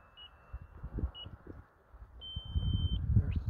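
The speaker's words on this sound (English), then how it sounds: "There's the timer." RC transmitter timer beeping during a UMX Air Tractor flight, with a few short high electronic beeps and one longer tone, sounding near and clear over soft outdoor wind rumble.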